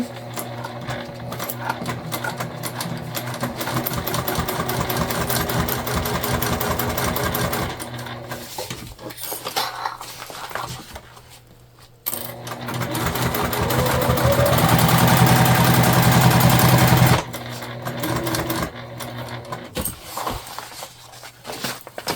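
A sewing machine stitches the lining of a pouch being converted into a crossbody bag, running in a steady close whir that pauses briefly twice and runs loudest near the end. No one speaks.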